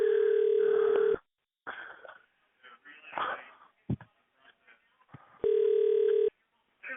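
A telephone line carries a steady dial tone in two sustained stretches while an emergency call is transferred, with brief choppy phone-line speech and noises in between.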